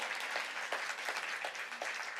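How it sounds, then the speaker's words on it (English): Audience applause at a community social-impact event: a steady, moderately loud wash of many hands clapping, dense and even throughout, with no talk over it. "Round of applause, that's exciting."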